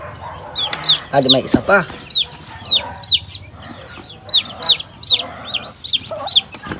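A free-range hen clucks low and steadily while her chicks peep in a regular string of high, close chirps; a person speaks briefly near the start.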